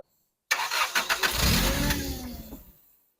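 Lotus Elan M100 engine restarts while hot: sudden start after silence, a brief rising rev, then settling and fading as it idles down, close and clear with no talk.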